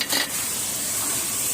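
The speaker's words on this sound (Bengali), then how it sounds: "দিয়ে এবারে হালকা করে জল দিয়ে মশলাটাকে ভালো" Spice paste with a splash of water fries in a pan for a Bengali fish curry, a steady loud hiss and sizzle following a brief stirring scrape at the start.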